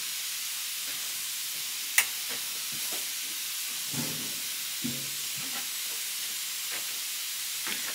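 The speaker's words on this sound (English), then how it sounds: "Hopefully at some point the steam will start to come out of this somewhere." Steam escapes steadily from an archtop guitar neck joint being heated to loosen its glue, a constant broadband hiss heard alone with a few faint clicks and taps from the work.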